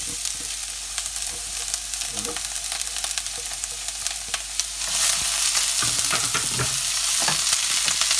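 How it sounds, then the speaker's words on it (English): Onions hit a hot, smoking pan for chicken tikka chasni and burst into a loud, steady sizzle with stirring scrapes. The frying grows noticeably louder and brighter partway through and keeps hissing. "So I'm going to put the onions in straight away. It'll probably make a bit of a noise."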